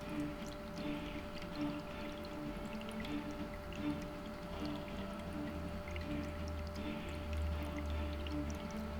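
An indoor water fountain runs continuously, a soft trickling and dripping over a low steady pump hum, faint and unbroken throughout.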